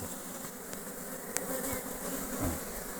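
Honeybees buzz steadily and softly around an opened beehive during a frame inspection, a close, continuous insect drone with a few brief clicks, no talk over it.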